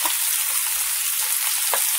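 Peppers fry in a pan with a bright, steady sizzle, close and loud, with a faint pop near the end and no voices.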